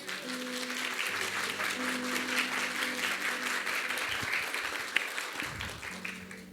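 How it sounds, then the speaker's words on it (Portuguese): A church congregation applauding at a Sunday service, sustained dense clapping from a large room filling the whole span, with faint voices and background tones underneath. "dá uma salva de palmas para Jesus."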